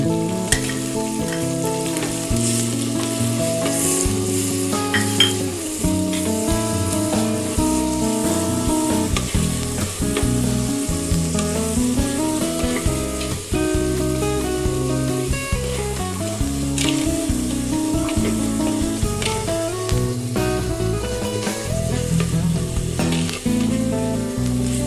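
Ground onion and garlic paste frying in a pan for fish kuzhambu, giving a steady continuous sizzle throughout with a dense background of other sound.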